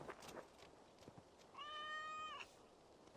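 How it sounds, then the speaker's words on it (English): Big cat in the video game Assassin's Creed Valhalla giving a single drawn-out, tonal meow lasting under a second, heard over quiet game ambience with faint footstep-like taps before it. "Oh my god, that big cat."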